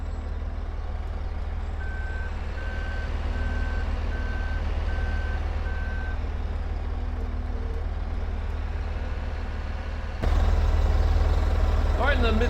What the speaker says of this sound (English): in the midst of the groans of the engines